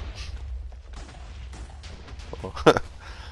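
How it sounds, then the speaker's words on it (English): A Minecraft explosion: a low rumbling bed of blast noise with one sharp, loud crack near the end, then fading debris sounds. "I just want to let the whole explosion finish here now."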